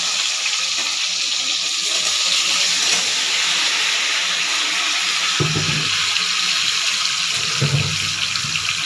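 Pieces of mango dropped into hot spiced oil for a pickle give off a steady, bright sizzling hiss that carries throughout, close and loud, with a couple of low thumps from the pan late on.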